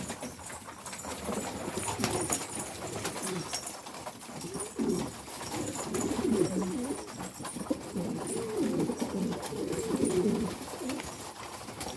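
Soft, repeated cooing of Istanbul breed pigeons, low and rounded, in a series of calls over a noisy outdoor background.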